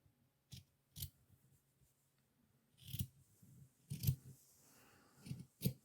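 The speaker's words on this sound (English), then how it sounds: "I'm going to angle them so that the bottom of the scissors is away from the hooked rug." Scissors snip through fabric while cutting a backing piece for a hooked rug, about eight separate crisp cuts in uneven clusters, close and fairly quiet, with no talking.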